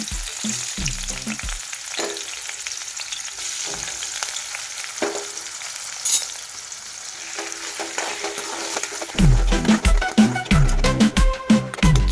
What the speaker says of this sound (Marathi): आपल्याला दोन चमचे तूप टाकून अजून आपल्याला तांदूळ फ्राय करून घ्यायचे आहे